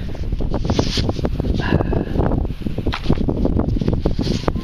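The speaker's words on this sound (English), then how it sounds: "it's a bit windy" Wind buffets the microphone outdoors on an open field during metal detecting, a rough, rumbling rush with uneven gusts and faint rustling for several seconds.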